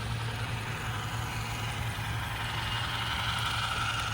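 An MTH Challenger model locomotive in Greyhound paint decelerates under braking, a steady whirring motor hum with a faint hiss easing down slowly, close and continuous with no talking.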